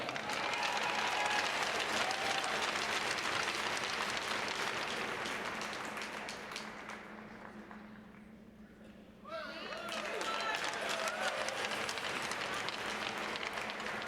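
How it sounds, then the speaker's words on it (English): A hockey arena crowd at a college game applauds in a long, dense roar of clapping that fades partway through, dips briefly, then swells back up with cheering around it. "Let's give them all a round of applause."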